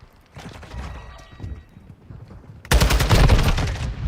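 In a Call of Duty Modern Warfare II match, scattered gunshots and background battle noise give way to a sudden loud burst of rapid automatic fire that carries to the end.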